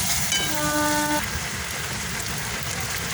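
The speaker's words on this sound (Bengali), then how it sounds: "এবার হলুদ আর লঙ্কাটাকে ভালো করে একটু কষিয়ে নেবো।" Turmeric and chili fry in a pan with a steady, moderate sizzle that carries on evenly, while a brief tonal ringing sounds only at the start.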